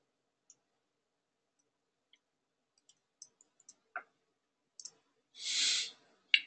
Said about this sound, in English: I'll type it in again.